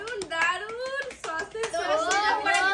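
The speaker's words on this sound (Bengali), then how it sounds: "চলো, দারুন, হাততালি হোক, একটা হাততালি হোক।" Hands clap in a series of sharp, close claps between and under excited talk from a child and an adult.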